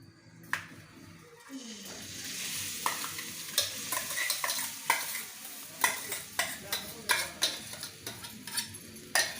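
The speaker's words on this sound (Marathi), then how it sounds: "चमचावर तूप घालते लागलं तर परत घालूया आणि हळी घालायच्या त्याच्यात" Garden cress seeds roasting in ghee for laddoos, stirred with a spoon: a soft steady sizzle with a run of sharp metallic spoon taps and scrapes that grow more regular and prominent toward the end, close up.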